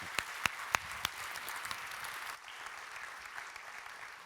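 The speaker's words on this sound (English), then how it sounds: "Warm applause." Applause from a seminar audience at a talk on financing the green transition: a few sharp early claps swell into steady, moderately distant clapping that fades slightly toward the end.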